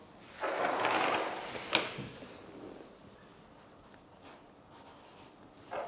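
Pen or pencil scratching across paper while numbers are written down for a division-by-2 math lesson, a steady close scribble lasting about a second and a half, then a sharp tap and quiet scratching in a near-silent room.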